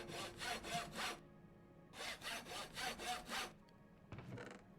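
Rhythmic back-and-forth sawing strokes from repairing copper armor in Minecraft, a burst of four quick rasps, a pause, then six more, followed by a shorter scrape; close and alone with no talking.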